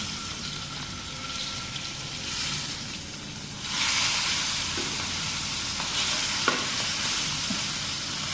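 Pangasius fish fries in a pan in a home kitchen, giving a steady, soft sizzle that swells louder midway, with a few light clinks and stirring sounds.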